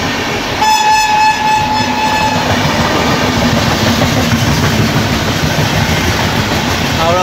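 The Doon Express, Howrah to Yog Nagari Rishikesh, runs through Sasaram Junction without stopping, heard from a train entering the station; a horn blares near the start over loud, continuous rumbling and clatter.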